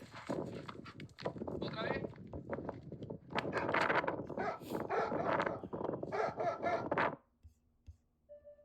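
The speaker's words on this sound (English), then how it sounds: "That it is the bark of the real majorero dog." A Majorero cattle dog gives a run of loud, close barks in quick bursts, with a voice talking alongside and the barking dropping off near the end.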